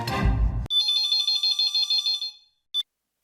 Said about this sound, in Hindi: मैं अभी नट्टू काका को फोन लगाता हूँ।